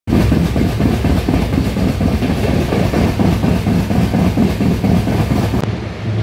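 A night passenger train from Digha to Howrah is running fast on the rails, heard from inside as a loud, continuous rumble with rhythmic clickety-clack beats, close and alone.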